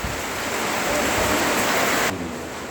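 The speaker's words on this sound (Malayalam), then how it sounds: "കാറ്റും ഭയങ്കര മഴയുമാണ് കേട്ടോ" A steady roar of heavy rain, with wind adding to the rush, loud and unbroken until it drops slightly near the end.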